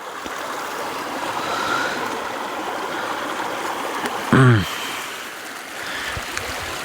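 A mountain stream near an old mining ghost town in Montana flows with a steady broadband rush throughout, and a brief voice-like sweep rises out of it just past the midpoint.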